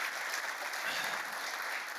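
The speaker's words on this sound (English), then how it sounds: "let's give our friend Vladimir a good round of applause" Audience applause for a speaker named Vladimir after a tech conference talk on augmented reality and React Native, a steady dense clapping that fills the whole short stretch at even loudness.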